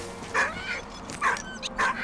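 Puppy in the video game Valiant Hearts barks and whimpers three times in short, evenly spaced yips, close and clear, with faint background noise between the calls.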